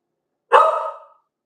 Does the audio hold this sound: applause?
no